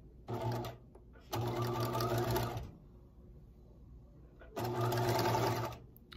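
A sewing machine sews a seam on a fleece pullover in three separate runs, short, long, then long again, each a close, buzzing whir with quiet gaps between.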